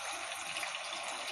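Hot water poured into a pan of desi chicken and potato curry makes a steady, even liquid rush with no pauses for the whole moment, close by and moderately loud.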